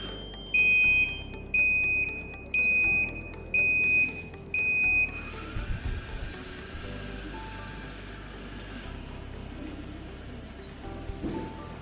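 A robot's buzzer alarm sounds five evenly spaced electronic beeps, loud and close, then stops, leaving a low mechanical hum with scattered clicks and knocks.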